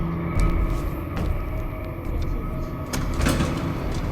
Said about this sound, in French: Je vais bien ouvrir la porte.